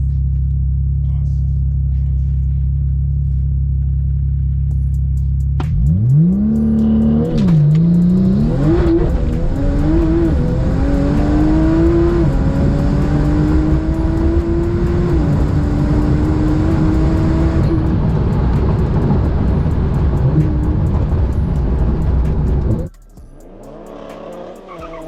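A Porsche race car, heard up close, starts with a low idle and then launches hard with tire squeal and a rising, repeatedly shifting engine roar. It holds loud at full throttle for about fifteen seconds, then cuts off sharply.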